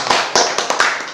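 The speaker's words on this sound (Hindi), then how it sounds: "बहुत अच्छा, ताली बजा दो।" A few quick hand claps ring out close and loud in a classroom, about five sharp slaps in a brief uneven burst.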